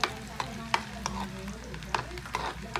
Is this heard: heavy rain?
no